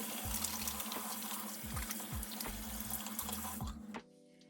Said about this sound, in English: but I need to wash my hands first.